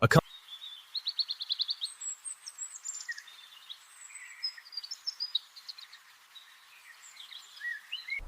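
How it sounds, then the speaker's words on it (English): Busy, rhythmic song of a southern masked weaver: rapid chattering buzzes, trills and squeaky notes, fairly close and continuous, with bursts repeating over several seconds. "Loud, rhythmic birdsong fills the air."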